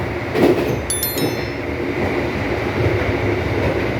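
Argo Semeru passenger train running from Jakarta to Surabaya, heard from onboard as a steady, loud rolling rumble with faint wheel-and-rail noise and a few brief high metallic squeals early on.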